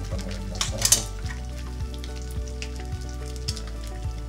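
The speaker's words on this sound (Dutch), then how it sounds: "En nu gaan we hem rustig bakken." Cod fillet frying in plenty of butter in a pan, a steady close sizzle with faint crackles and a few soft clinks of the pan or utensil, no talking.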